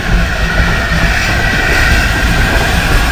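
Steam locomotive 69523, owned by the Gresley Society, at Barrow Hill, heard as a loud, steady rumble and rattling rail clatter, continuous and close with no talk over it.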